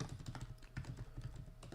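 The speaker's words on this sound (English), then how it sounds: "That typing sound is just me getting the stat sheet" A computer keyboard is typed on in quick, light bursts of keystrokes, heard quietly and close by with no talking over it.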